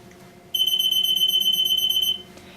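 EAS electromagnetic anti-theft system alarm sounding a single loud, steady high-pitched electronic beep tone for about a second and a half, then cutting off.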